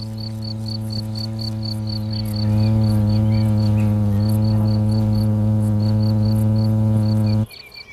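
A steady, close buzzing hum of wasps fanning their wings to ventilate their nest, swelling louder partway through, with faint high chirping pulses above, then stopping abruptly.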